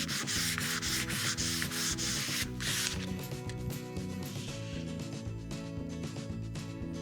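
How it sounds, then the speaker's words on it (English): Wood is lightly scuff sanded by hand along the grain to knock down raised nibs before staining, producing a continuous close, dry rubbing and rasping with rhythmic back-and-forth strokes and no voices. "just lightly scuff sanding in the direction of the grain to remove any of the nibs and prepare the surface for finishing"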